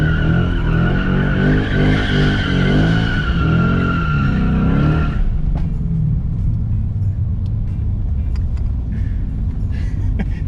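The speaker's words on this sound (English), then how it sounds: "It's been a while since anyone did donuts over here." Tires squeal loudly in long, wavering screeches as a car spins in circles, then give way to a roaring engine and rumbling road noise.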